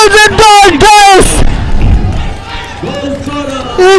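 Crowd at a SESA Football Academy versus Guardian Angel SC football match erupts in a broad cheering roar right after a goal that levels the score at 2-2, swelling in the middle and fading as a commentator talks over the start and end.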